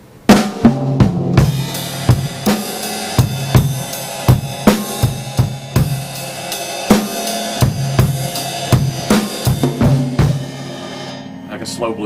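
A drum kit plays a slow blues groove in a 12/8 triplet feel, with kick and snare accents over a rolling ride-cymbal triplet pattern that is loud and close, winding down near the end as a voice briefly comes in.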